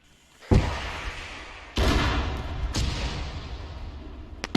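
Artillery rounds impacting in a video game, with three heavy booming blasts spaced about a second apart, each trailing into a long rumbling roar, and a few sharp cracks at the end.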